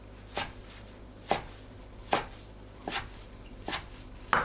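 A knife chops soaked green laver (parae) on a cutting board in six evenly spaced, crisp strokes, close and clear with quiet pauses between each cut and no talking.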